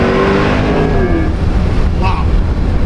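A C8 Corvette E-Ray engine roars loudly and rumbles up close, its tone rising then settling into a deep, rough exhaust drone.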